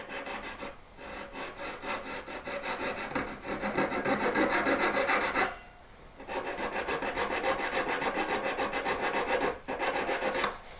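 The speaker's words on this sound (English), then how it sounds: "Filing down to about almost 3/4 with this one, and then opening up to 3/4 of the way down with this one." A metal file works a jewelry ring mount for an emerald-cut stone in sustained close rasping strokes, pausing twice briefly before resuming.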